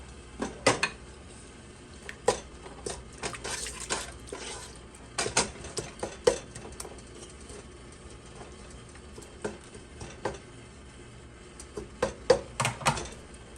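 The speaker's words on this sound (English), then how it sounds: "So I'm gonna put a can of those in there, okay?" Clinks and knocks of a can of Rotel diced tomatoes being opened and emptied into a cooking pot for creamy chicken nachos, scattered sharp metallic taps and scrapes at close range with quiet pauses between.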